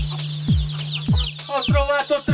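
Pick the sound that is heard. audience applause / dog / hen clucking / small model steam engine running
hen clucking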